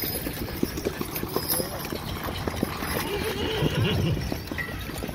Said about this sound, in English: Percheron horses.